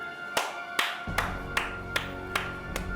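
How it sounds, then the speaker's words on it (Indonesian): Seven or so sharp claps at a slow, steady rhythm, close and crisp, over a soft bed of music. "Tepuk tangan aja kayak ulang tahun."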